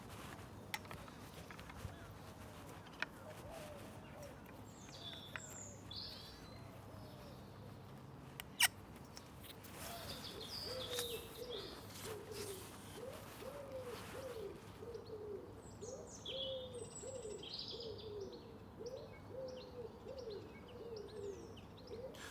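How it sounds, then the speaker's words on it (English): A blackbird sings from an apple tree, recorded at close range in a quiet outdoor setting. Its fluting phrases come intermittently against faint background birdsong and low ambient hum. "I can extend the microphone within about 3 or 4 metres, I think, of where the blackbird was singing"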